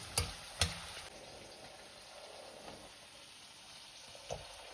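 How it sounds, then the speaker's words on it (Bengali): White onions frying in a pan give a soft, steady sizzle throughout, with a couple of sharp stirring clicks near the start and another later; no one speaks. "প্রথমে এখানে পেঁয়াজ ভেজে নেবো ভালোভাবে"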